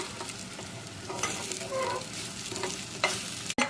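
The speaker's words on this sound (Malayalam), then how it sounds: "എല്ലാം കൂടി നമ്മുടെ മഷ്റൂമിനകത്തേക്ക് ഇട്ട് കൊടുത്തിട്ട് മിക്സ് ആക്കാം." Spices being stirred into mushrooms in a hot pan: a soft, continuous sizzle with scraping strokes from the stirring, fairly faint and close, with no talking.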